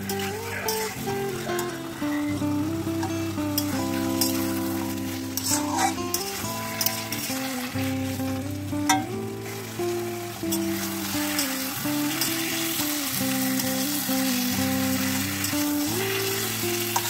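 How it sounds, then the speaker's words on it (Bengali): Marinated mutton and fried onion paste sizzle steadily in a pan for a Golbari-style mutton kosha, with occasional stirring and clinks under a strong, continuous frying hiss; a faint tonal hum runs beneath. "এবার আমি ম্যারিনেট করা মাটনটা দিয়ে দিচ্ছি। এবার ভেজে রাখা পেঁয়াজ বাটাটা দিয়ে দিলাম।"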